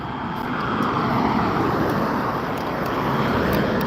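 Road traffic rushes by during a walk, a steady, fairly loud roar of passing vehicles that swells slightly midway with no talking over it.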